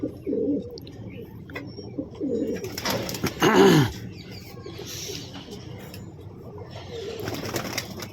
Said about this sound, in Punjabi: ਚਲੋ ਸਾਰੇ ਕਬੂਤਰ ਆ ਗਏ ਆਪਣੇ